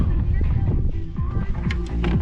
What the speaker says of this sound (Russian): Ветер есть.